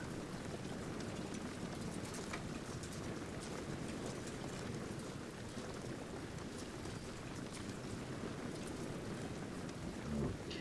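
Steady rain falls on a medieval battlefield in the strategy game Medieval: Total War Viking Invasion, a dense, even hiss that stays unbroken throughout with no voices.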